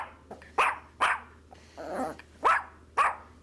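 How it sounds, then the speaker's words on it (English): A dog barks close and loud, four sharp barks in an uneven rhythm with a short growl between them, over a faint low hum and no speech. "Now I'm going to bark for 2 hours straight."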